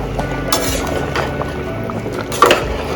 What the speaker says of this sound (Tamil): இப்போ கிளறி விட்டுறலாம்.